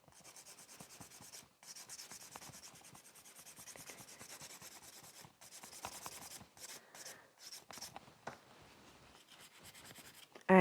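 A file rasps across a sculpted builder gel stiletto nail set on forms. Close, quick, scratchy strokes repeat in short runs, broken by brief pauses, with no talking.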